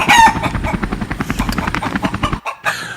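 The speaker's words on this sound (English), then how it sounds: "The chickens are demolishing the chicken spot right now." Chickens clucking and a rooster crowing in a loud, busy flock, calls overlapping continuously before a brief pause and a final burst.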